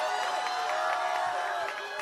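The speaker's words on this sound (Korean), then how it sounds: "여러분 큰 박수로 환영해 주십시오." A large crowd at a political campaign rally in Paju cheers and applauds continuously, a dense roar of clapping and voices with no single speaker standing out.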